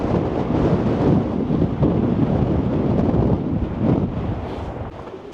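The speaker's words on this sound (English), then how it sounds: "Oh man, the wind up here." Strong wind buffeting a castle ruin on the Scottish coast, a loud continuous roar of gusts blasting the microphone without pause and easing a little at the end.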